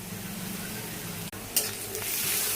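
Spices, garlic and onion with green chillies, salt and turmeric fry in oil in a pan, a steady close sizzle running throughout, broken by a brief stirring scrape partway through.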